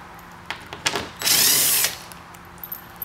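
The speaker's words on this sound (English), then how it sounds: "So we'll take our 7mm socket and easily take those out." A power tool with a 7mm socket backs out factory screws from a 6th-generation Camaro front splitter area, a single loud burst of about half a second after a few light clicks and taps.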